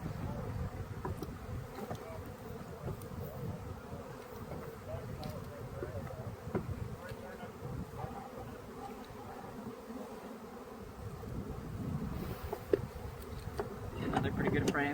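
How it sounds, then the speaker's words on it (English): Honeybees buzz in a steady, faint drone around an open beehive as a frame is shaken off during a hive split, outdoors with some wind and a voice briefly audible. "So I shake off the bees to make sure I don't transfer the queen into this top box."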